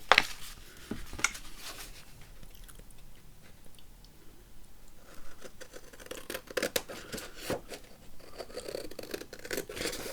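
Scissors snip through a paper journaling card in a quiet craft setting, a series of soft, close, irregular cuts and rustles with no talking.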